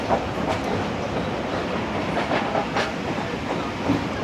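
The Sukkur Express passenger train in Pakistan moving along the track, a loud continuous rumble with rhythmic clickety-clack from the wheels, heard from inside the train and unbroken throughout.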